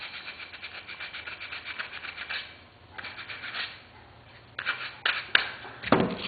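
Sandpaper of about 120 grit rubs over light 4 to 6 pound balsa wood while shaping a fender, making a steady back-and-forth rasp that pauses briefly, then resumes in shorter, harder strokes near the end.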